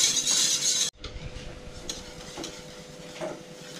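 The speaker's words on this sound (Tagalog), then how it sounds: "Ngayon habang niluluto natin ang cornstarch, kailangan tuloy-tuloy ang halo mga igan." Cornstarch mixture being stirred continuously in a pot while it cooks for chocolate ice candy, a soft scraping and swishing that follows a loud sizzling burst, steady and close, with no talking.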